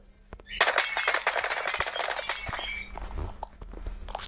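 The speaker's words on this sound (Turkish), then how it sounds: "tepeden sniper vurdum." Rapid gunfire from a sniper rifle in the CubeCraft Minecraft server, a burst of sharp repeated shots at close range that fades into scattered, quieter pops.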